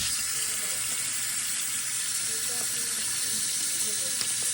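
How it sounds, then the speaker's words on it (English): A strong, steady spray of water blasts continuously from a power washer being used to clean down a surface, a broadband hiss that stays loud and unbroken throughout the whole stretch with no pauses. "gonna power wash this shit down"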